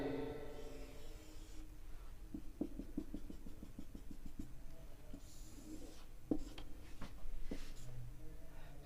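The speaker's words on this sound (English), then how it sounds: "Now you can draw the ray diagram like this." Chalk or marker drawing a physics ray diagram on a board, a steady run of short rhythmic strokes and taps at moderate distance over a faint background hum.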